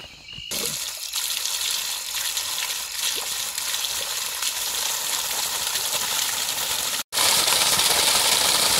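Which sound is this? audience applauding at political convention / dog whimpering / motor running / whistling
motor running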